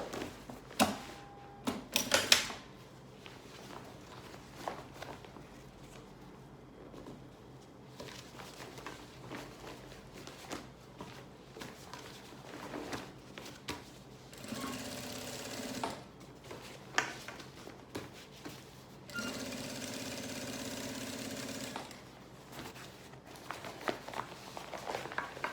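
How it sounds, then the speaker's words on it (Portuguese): A sewing machine runs in quiet bursts while stitching along the side of a fabric garment, with soft handling noises and brief louder whirring runs in between. "E vou continuar passando a costura aqui em toda a lateral da peça."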